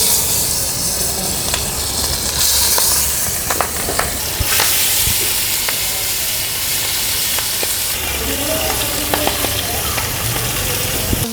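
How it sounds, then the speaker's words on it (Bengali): Pieces of Jamuna river catfish (baghair) fry in hot oil in a pan, making a loud, continuous close sizzle with scattered sharp pops and hissing steam bursts. "ভাজা শেষ, উঠায় ফেললাম।"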